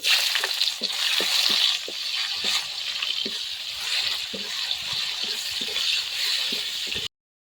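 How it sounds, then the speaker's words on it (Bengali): Chopped onions sizzle in hot oil with dry red chilli, bay leaf, whole garam masala and cumin for a Bengali mutton curry, a steady close frying hiss broken by regular scraping stirs, no voices. "এবারে কুচনো পেঁয়াজ দিয়ে দেবো।"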